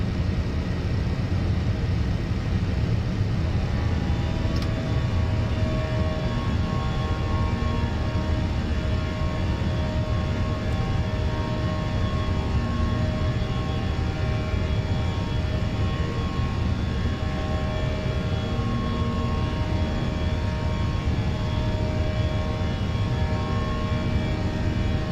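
Airbus A320 jet engines in a flight simulator, spooling up as the airliner gains speed, with a steady loud roar and a smooth broadband whine that holds unbroken throughout.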